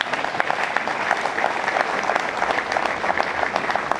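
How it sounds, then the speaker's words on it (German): Audience applause at the opening of the main town square in St. Leonhard am Forst, a steady spread of many hands clapping fairly close, continuous for about four seconds with no talk. "Applaus."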